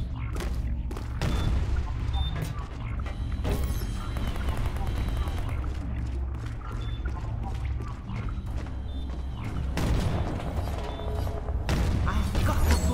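In the shooter Ballistic Overkill, a frag grenade goes off amid a busy firefight, with heavy booms and bursts of gunfire layered over a constant low rumble and voices speaking throughout.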